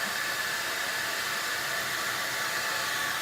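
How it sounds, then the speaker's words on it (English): Handheld blow dryer blowing a steady, close, loud whoosh of air over gilding size on a wooden box, drying it to tack before gold leaf goes on; continuous, unbroken airflow with no talking. "I'm using my blow dryer"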